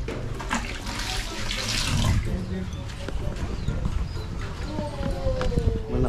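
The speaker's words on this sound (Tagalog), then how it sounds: "Malakas ang tubig ngayon." A tap runs strongly, its water rushing in a steady hiss, while people talk over it nearby and other knocks and clatter come and go.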